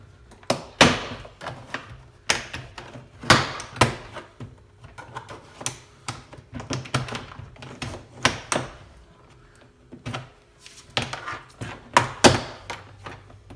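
Sharp plastic snaps and thunks come at irregular intervals, close by, as a Chevy Malibu rear door trim panel is pried loose clip by clip.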